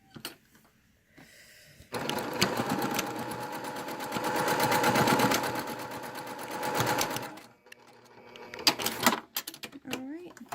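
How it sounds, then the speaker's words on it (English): A sewing machine stitches the two ends of twill tape together for 18th-century stays, running steadily for several seconds at a fast, even rate, with a brief start, a pause, and a short closing burst. "We're just going to sew the 2 ends together here, probably about 1/4 of an inch."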